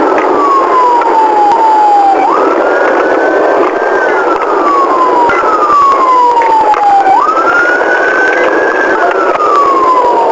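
A loud police car siren wails continuously, sweeping slowly up and down in long repeated cycles, close by with steady traffic rumble beneath.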